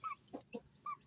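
Hens and chicks clucking under a house in the countryside, a few short, soft clucks and peeps close by, quiet and alone.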